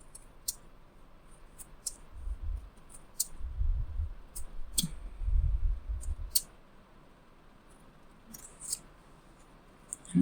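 Scissors snip loose threads from a handmade fabric hair clip, giving sparse, quiet clicks and cuts spread across the stretch, with soft handling rustle and low bumps between them.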